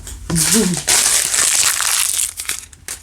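Backing is peeled off laminate fabric adhesive in one long, loud, close crinkling rip, with a short voice at the start and a few crackles trailing off at the end.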